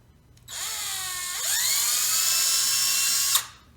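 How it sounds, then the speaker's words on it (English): Small bit in a power drill boring pilot holes through a cabinet hardware jig: a high whine spins up, deepens as it bites, then runs steady for about three seconds before cutting off, close and alone. "I'm going to use a small bit, hit the center, and then take my jig off and drill with the proper size bit"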